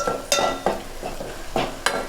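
Onions frying in a pan with a soft sizzle, while a utensil scrapes and clinks against the metal in several quick stirring strokes, close and fairly quiet.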